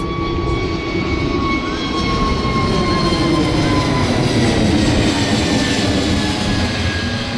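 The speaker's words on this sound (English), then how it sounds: "Another plane takes off." A loud, steady roar of an airplane's jet engines taking off from a small airport in Batumi, Georgia, sustained and close, with no voices.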